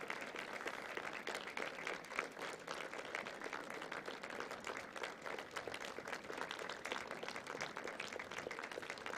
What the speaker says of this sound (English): Generous applause courtside